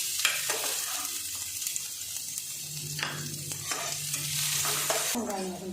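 Onions fried with curry leaves and ginger in a pan, a steady close sizzle under repeated stirring scrapes, with no talking.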